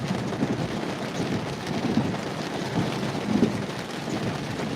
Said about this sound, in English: It's getting ready to start raining real heavy.